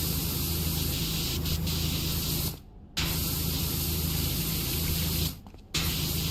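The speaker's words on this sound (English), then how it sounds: "I'm also just spraying off rust" In PowerWash Simulator, a pressure washer sprays rust off a surface with a loud, continuous hissing jet. The spray cuts out briefly twice, then resumes.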